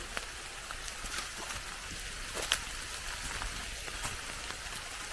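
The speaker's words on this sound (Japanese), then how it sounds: "いや雨がやばい" Steady rain falls outdoors along a forest path where bamboo shoots are being harvested. It makes a constant wash of hiss with scattered sharper drop patters, fairly faint, and no one speaks.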